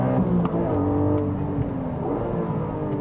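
Porsche 718 GTS 4.0 six-cylinder engine held in second gear high near its 7,800 rpm limiter, a loud, close, steady harmonic engine drone with slight wavering pitch and no talk over it.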